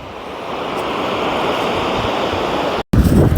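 Water rushing steadily at Rajdari waterfall, a dense broadband roar that holds loud and even for about three seconds, broken by a brief dropout before it returns slightly louder and closer.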